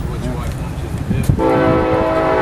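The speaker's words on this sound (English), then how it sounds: "If you'll pause a minute while the train does its thing." A train horn blares out in Topeka, entering around the midpoint as a loud sustained chord with rich harmonics and holding steady to the end, over the rumble of rail traffic and faint background voices at the start.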